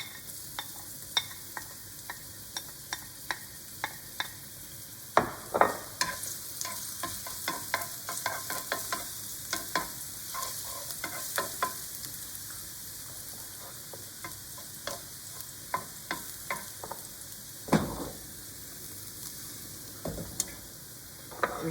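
Garlic frying in heated fat in a pan, a soft steady sizzle broken by frequent sharp crackles and pops over about twenty seconds, alone without talk.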